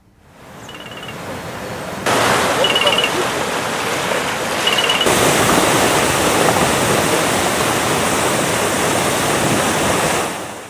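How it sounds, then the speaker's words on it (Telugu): Water gushes in steady streams from leaking joints midway along the Tammileru aqueduct in West Godavari, a loud, continuous rushing roar that swells in two steps early on and then holds at full strength. "ధారగా నీరు వృధాగా పోతోంది"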